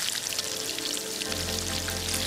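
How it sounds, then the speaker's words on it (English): Water pours and splashes steadily as boiled eggs are moved into a cold water bath in a kitchen, a continuous close trickling and gurgling that deepens partway through. "Just going to transfer them to a cold bath."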